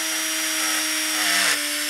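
Power drill boring into a hollow polymer clay doll head, a steady whining drone with a tonal hum throughout, pitch dipping briefly near the end as the bit bites and the load shifts.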